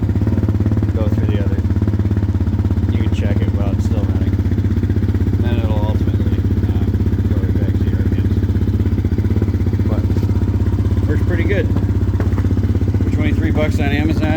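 A child's ATV engine idles steadily up close with a low droning hum and some clatter while a person talks over it throughout.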